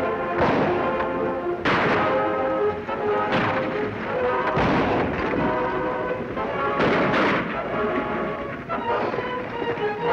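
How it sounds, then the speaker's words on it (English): Gunshots fired at an outlaw in a Lone Ranger western episode, a series of loud, booming reports spaced a second or two apart over a rumbling, noisy background. "Sure hope you're a good shot, Baron."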